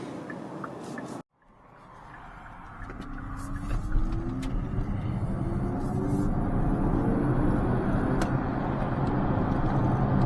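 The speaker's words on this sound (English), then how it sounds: "It's fast enough in just sport mode, yet without GT mode switched on. It just gets you up to 60 in no time at all." Kia EV6 GT electric car accelerating hard in sport mode with all-wheel drive: after a brief cut, a rising whine climbs steadily over growing road and wind roar, heard from inside the cabin, no talking.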